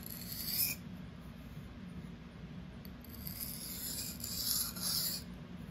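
A REX-45 steel knife is sharpened freehand, giving a quiet, steady rasping scrape of blade strokes across the abrasive with faint high metallic glints.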